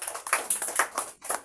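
A church congregation claps at a celebration service in distinct bursts, several sharp, close hand-claps falling in an uneven rhythm with brief gaps between.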